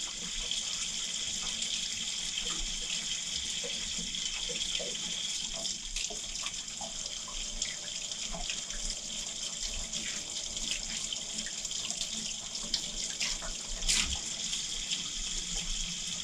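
A cheap paint brush rinsed with a dab of soap under a running sink tap: a steady, moderately soft stream of water with small splashes and rubbing, continuing without pause and with no talk.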